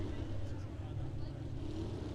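An Oliver 88 pulling tractor fitted with a Chevrolet engine, competing at a 4-H fair tractor pull, gives off a steady rumbling engine drone, somewhat distant and filling the whole moment, with no break.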